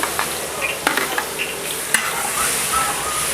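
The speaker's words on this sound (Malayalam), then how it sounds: "ആദ്യമായിട്ട് വെളുത്തുള്ളി നമ്മൾ വെളിച്ചെണ്ണയിലിട്ട് അങ്ങനെ മൊരിച്ചെടുക്കുന്നു." Garlic frying in hot coconut oil with a little ghee for a pork fry: a dense, bright crackling sizzle throughout, broken by a few sharp utensil clicks and stirs, close and alone.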